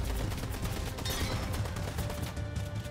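Dense Fortnite gunfire crackles nonstop, rapid bursts of shots layered over a steady noisy background, with no one talking.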